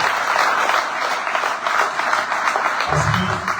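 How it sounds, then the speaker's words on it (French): Audience applause in a French-language motivational talk, a dense steady wash of many hands clapping throughout, fairly loud, with a low rumble entering near the end. "donner un tonnerre d'applaudissements pour mon très cher ami"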